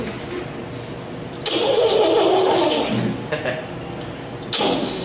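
A comedian's voice imitates Donald Duck straining to start his car on a cold morning, a few sputtering, coughing bursts of engine-like noise, loud and close, with a final short burst near the end.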